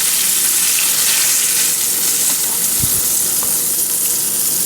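Two salmon fillets fry in sweet cream butter and olive oil in a pan, a loud, dense, continuous hiss of sizzling with a soft knock or two, close by and with no talking.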